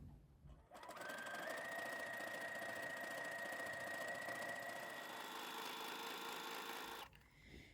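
A sewing machine runs steadily for about six seconds, sewing a combined straight and zigzag stitch on brocade jacquard fabric, with a constant close, even whirr that starts and stops abruptly.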